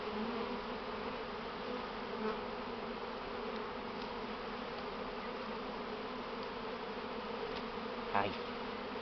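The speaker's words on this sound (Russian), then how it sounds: "Во, пчелы." Bees buzz steadily and continuously at close range, a dense droning hum that holds through the whole stretch with small swells as insects pass nearby.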